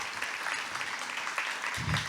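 Audience applause for conference sponsors at a tech keynote event, a steady fairly faint wash of clapping across the whole stretch with a low thump near the end.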